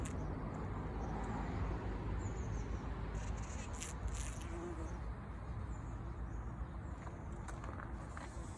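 Bumblebees buzz around self-seeded poppies in a garden, a steady close insect drone running through the whole stretch over a dense outdoor background hum.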